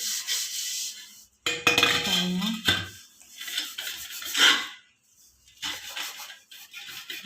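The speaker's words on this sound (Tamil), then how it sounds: "சபீனா வச்சு தேய்க்கும்போது" Sabeena scouring powder being rubbed onto a vessel, with several rasping scrub strokes near at hand and brief pauses between bursts, plus a short clink of the pot.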